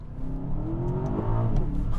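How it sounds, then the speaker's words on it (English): The V8 of an Aston Martin DBX pulls hard, a rising engine drone sweeping upward in pitch as it accelerates, heard from inside the car, steady and fairly loud. "first thing you notice is that glorious V8 soundtrack"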